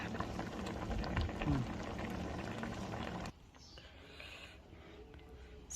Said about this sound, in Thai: อืมกำลังเดือดเลยค่ะกำลังเดือดกำลังจีสุกค่ะ